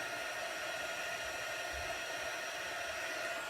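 A heat gun blows hot air to melt embossing powder on a paper craft, giving a steady, even hiss and whir that runs unbroken at close range with no voices.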